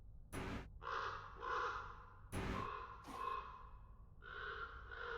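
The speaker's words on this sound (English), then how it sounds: "I like the sound effects called the crows." Crow caws as a sound effect in a Dungeons & Dragons virtual tabletop: a few loud, harsh cries in short bursts, each followed by a sharp breathy burst, fairly close and clear with no talk.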